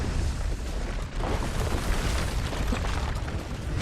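A loud, sustained rumbling blast fills the whole span as a crystal is destroyed in the video game Final Fantasy XVI, a dense roar with scattered crackling bursts and no talking.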